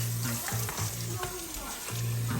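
Potatoes and yardlong beans frying together in a hot pan, a loud dense sizzle running throughout with a low hum and brief stirring scrapes, no speech over it.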